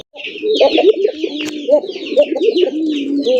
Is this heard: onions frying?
no